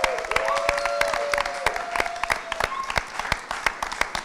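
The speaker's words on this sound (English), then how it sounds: "give a round of applause for Love Now Media of Culture Trust" An indoor audience claps steadily, with scattered sharp individual claps over a dense bed of applause and some faint vocal sounds.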